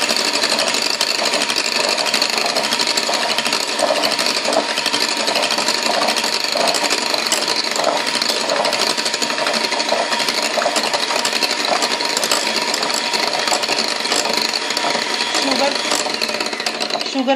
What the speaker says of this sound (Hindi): पहले हमने स्पीड कम रखनी होती है बीटर की, जब ये फोम बनने लगेगा तो फिर हम इसकी स्पीड तेज़ कर देंगे